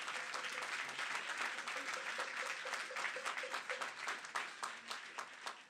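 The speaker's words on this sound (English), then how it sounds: "Let's give them a round of applause" A crowd applauds steadily, a dense patter of many hands clapping at a moderate distance, continuing throughout.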